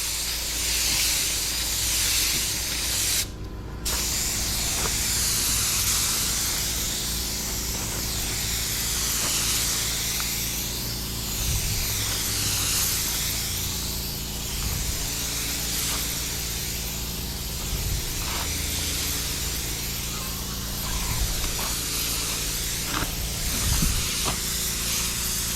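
Spray gun laying a paint coat on a 2006 Porsche Cayenne, hissing steadily in rhythmic sweeping passes for the whole stretch, with faint clicks and no talking.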